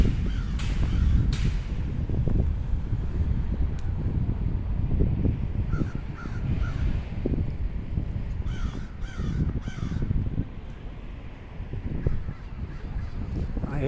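Several harsh caws from a crow nearby, repeated in short bursts over a rumbling outdoor background with wind or traffic noise.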